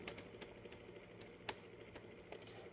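Soft, quiet keystrokes on a computer keyboard entering a fastboot command, scattered irregular taps with one sharper press midway, set against a low steady room hum.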